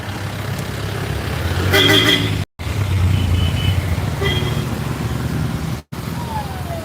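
Cars, trucks and buses start moving on a road as police clear a traffic jam, making a steady loud rumble of engines with a few brief horn toots. A voice talks over the traffic.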